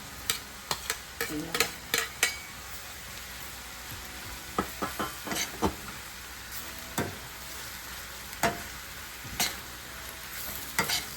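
Chopped tomatoes tossed into frying onions for paneer bhurji, a quiet sizzle under irregular spoon clacks and scrapes, clustered early and then spaced out, close by with no talking.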